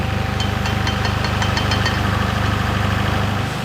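Lorry crane engine running steadily while lifting a narrowboat out of the water in winter, a loud continuous diesel rumble with rhythmic knocking throughout.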